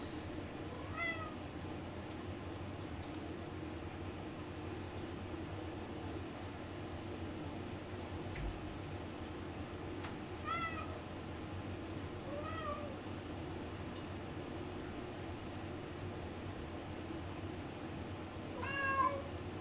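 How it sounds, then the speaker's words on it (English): A cat meows softly several times at spaced intervals, faint against a quiet room hum. "You might hear my cat crying."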